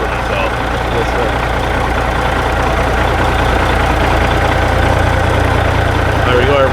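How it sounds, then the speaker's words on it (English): A 1988 Peterbilt truck's engine idles with a steady, deep low rumble and slight knock, loud and close throughout, while someone talks over it. "you're just listening to that idle all day long"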